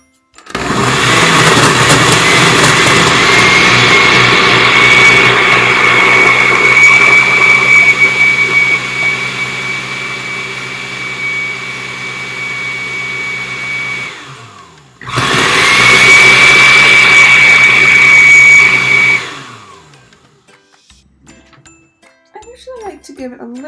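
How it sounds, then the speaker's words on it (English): A kitchen blender whirs loudly through a berry banana smoothie with yogurt, a steady high-pitched motor drone that stops briefly, restarts for a few more seconds, then cuts off, leaving quiet clinking. "so I'm just gonna blend all that up"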